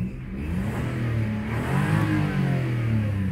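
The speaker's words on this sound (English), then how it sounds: "So one last little rev, I think" A Rover 827 Sterling engine revved once, the note climbing and falling back with a close, steady mid-pitched hum throughout.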